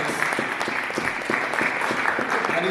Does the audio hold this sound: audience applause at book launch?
yes